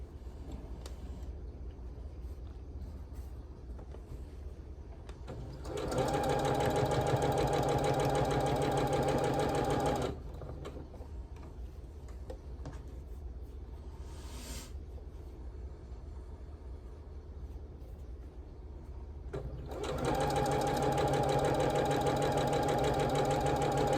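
Sewing machine chain piecing quilt blocks, running in two steady loud bursts of rapid stitching separated by quieter pauses with low background hum.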